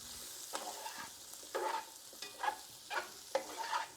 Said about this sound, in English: I'm just giving this a good stir so everything could get tossed together really well with the butter and bacon fat